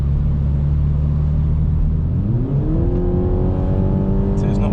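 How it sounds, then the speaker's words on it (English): A Toyota GR Supra climbing uphill in Tokyo as the turbo kicks in, heard from inside: a loud, steady engine drone that rises smoothly in pitch as the car accelerates. "Going uphill as well. Turbo kicks in."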